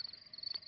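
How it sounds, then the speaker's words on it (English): A thin, continuous high-pitched cricket trill at night outdoors in a cartoon, faint and steady with a soft rustle underneath. "That is the sound of crickets chirping."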